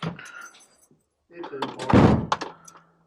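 An old car's sprung door is opened and closed, giving a couple of hollow thunks and a heavier slam near the middle, with a voice briefly speaking early on.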